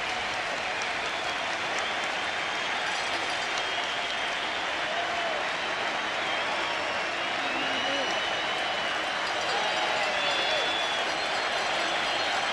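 A packed Seattle ballpark crowd roars and cheers during Game 5 of the 1995 ALDS against the Yankees, a dense, steady wash of voices and clapping that swells slightly toward the end.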